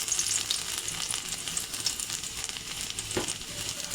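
Chopped garlic fries in soybean oil with a loud, dense, continuous sizzle close by, a brief crackling flare standing out near the end, and no one speaking.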